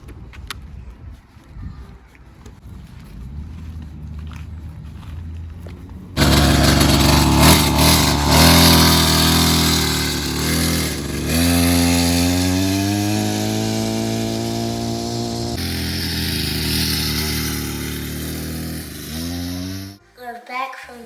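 A dirt bike engine runs at a park, quiet and distant at first, then roaring close and loud, its pitch climbing and falling as the rider revs and rides, with faint talk early on.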